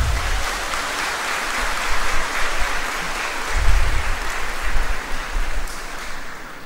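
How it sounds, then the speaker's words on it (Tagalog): Church congregation applauding at a shrine anniversary Mass: sustained, dense clapping from a crowd, fairly loud and even, swelling slightly in the middle before easing off. "Pumapalakpak kayo"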